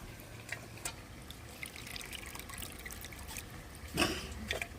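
Water squeezed by hand from washed pumpkin greens, heard as quiet trickles and dribbles with a few sharper splashy bursts, the loudest near the end, faint and close with no speech.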